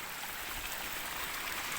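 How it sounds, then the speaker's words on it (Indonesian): Heavy rain pouring down in a remote Sundanese village in Cianjur, a steady dense wash of falling water that fills the whole clip without a break. "Wah, ini udah hujan sahabat tuh."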